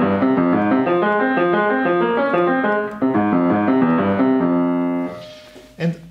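Slow left-hand piano line from a Beethoven prestissimo passage, played steadily as repeated broken-chord figures for about five seconds before stopping, followed by a brief soft knock.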